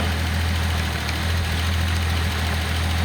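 A Datsun 280ZX turbo engine idles close up with a steady low rumble and a constant mechanical hum, running alone without talk.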